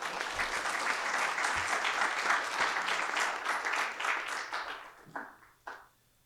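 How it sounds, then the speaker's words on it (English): Dense audience applause at the Burbank Startup Pitch Fest 2025, a loud sustained wash of many hands that thins out near the end into a few isolated claps. "All right, a round of applause."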